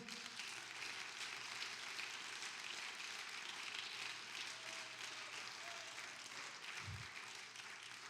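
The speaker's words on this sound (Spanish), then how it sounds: "Alguien dé un aplauso al Señor." Applause from a congregation at a Spanish-language evangelistic church service in Houston, Texas: a faint, steady rain-like patter of many hands that continues evenly for several seconds, heard from a distance.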